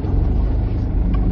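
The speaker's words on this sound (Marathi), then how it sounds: "माऊ गाडी आली" A car approaches on a village road, its engine a loud, steady low rumble close by for the whole short moment with no talk over it.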